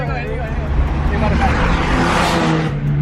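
Drift cars, a BMW E30 and a Nissan GT-R, race loudly past at close range with revving engines and rising roar, while spectators talk and shout excitedly over them.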